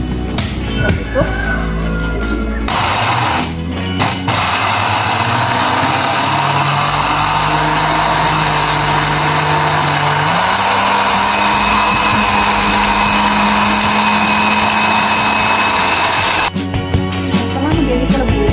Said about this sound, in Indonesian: Sebaiknya sih tunggu sampai dia agak dingin ya, jadi jangan di blender panas-panas